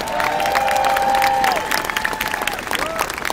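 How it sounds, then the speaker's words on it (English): Applause and cheering from an outdoor Tax Day Tea Party rally crowd in Cincinnati, a loud sustained clapping wash with whistles and shouts rising over it before it thins and fades. "give a round of applause to Ray Warrick"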